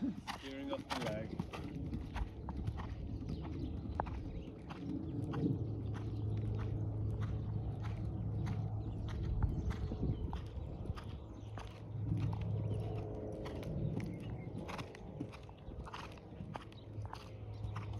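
A ridden horse moving straight during a riding lesson makes steady, rhythmic clip-clop hoofbeats at close range, while a person talks over them throughout.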